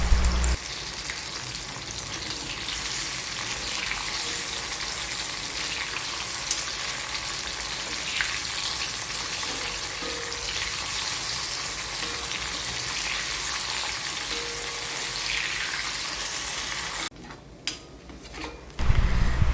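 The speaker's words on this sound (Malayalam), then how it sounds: "ഇനി നമ്മൾ അരിഞ്ഞു വെച്ചിരിക്കുന്ന നമ്മുടെ മാങ്ങ കൂടി നമുക്ക് ഈ ബാക്കി വന്ന എണ്ണയിലിട്ടൊന്ന് നന്നായിട്ടൊന്ന് വഴറ്റിയെടുക്കാം" Chopped raw mango sautés in leftover oil for mango pickle, producing a sustained, loud crackling sizzle with occasional spoon scrapes, then dropping to a quieter stretch before the frying noise returns.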